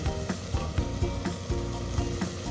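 Masala and coriander powder frying in oil for a village-style Marathi mutton curry: a steady, fairly loud sizzle with regular spatula strokes scraping the pan roughly every half second, no talking.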